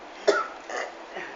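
A single short cough or throat-clear lands close by, followed by a couple of fainter breathy rasps in a quiet room.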